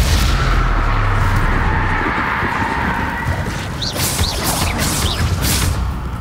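Fiery Confringo spell blasts from Hogwarts Legacy rumble and crackle in a dense, continuous barrage, with a few sharper whooshing bursts near the end, loud and close throughout.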